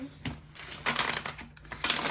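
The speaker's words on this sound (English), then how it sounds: "So I'm just gonna shuffle real quick" Tarot cards shuffled by hand in short papery bursts of riffling and flicking, close and fairly soft, with brief quiet gaps between.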